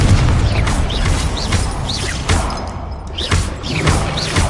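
Confringo explosion spells go off in Hogwarts Legacy on PlayStation 5: repeated booming blasts and thuds with whooshing magical zips, loud and close in quick succession.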